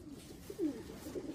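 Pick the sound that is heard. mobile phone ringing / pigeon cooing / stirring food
pigeon cooing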